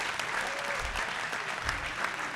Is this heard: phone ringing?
no